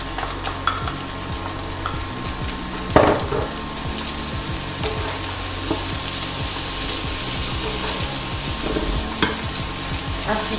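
Shallot and salsify fry in a pan with a steady, close sizzle, broken by occasional clinks and scrapes of a spoon stirring.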